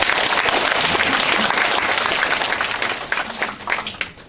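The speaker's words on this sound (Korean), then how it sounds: "명예의 박수 좀 보내주시면" A crowd at a Korean county community concert gives a sustained round of applause, thick and even at first, then tapering off and growing sparser with a few voices near the end.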